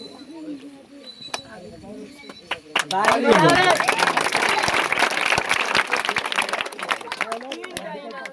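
Applause for the man of the match at a cricket event, starting as scattered claps and swelling at about three seconds into steady, dense clapping from a crowd, with voices and chatter mixed in throughout.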